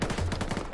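An M60 machine gun firing in ArmA, a short rapid burst of about eight evenly spaced heavy shots, loud and close, with no voices.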